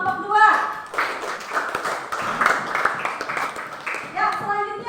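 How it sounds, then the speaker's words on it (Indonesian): Classroom applause for a student group: a short round of clapping from several students, fairly close, mixed with voices and chatter throughout. "Berikan aplaus untuk kelompok 2."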